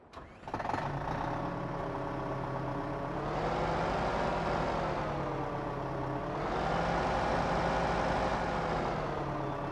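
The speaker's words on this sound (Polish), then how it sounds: "Ostatni ciągnik z tego DLC, czyli Zetor Forterra 150 HD." Zetor Forterra 150 HD tractor, a 147-horsepower machine in Farming Simulator 15, cranks and starts, then its diesel engine runs steadily at close range, rising in revs twice with a slight drop between.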